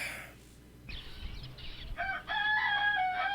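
A rooster crows at a stable, with a few rising and falling calls and clucking at moderate distance over quiet background.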